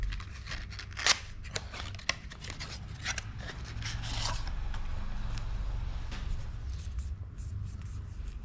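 Packaging of a skincare product is opened by hand, with close crinkling, scraping and snipping sounds arriving in short irregular bursts over a low background hum.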